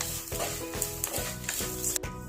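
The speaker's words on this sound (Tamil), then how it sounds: "ஒரு 100 கிராம் அளவுக்கு சின்ன வெங்காயத்தை இப்போ இதனோட சேர்த்து நல்லா வதக்கிக்கோங்க" About 100 grams of small onions sauté in a pan for a fish curry. A steady, close sizzle is broken by rhythmic spatula strokes roughly every half second, with no talking.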